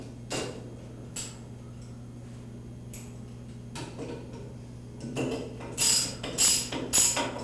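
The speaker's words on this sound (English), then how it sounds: "tighten the bolts till they are firmly secure and seated." Bolts on an AMOT 4280 valve are tightened with a ratchet wrench, giving scattered clicking ratchet strokes that start sparse and grow into a quicker, louder burst of close metallic ticks near the end.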